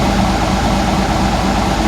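A Cummins diesel engine in a locomotive runs at a steady idle, a continuous low rumble with mid-range engine hum, close and loud with no talking.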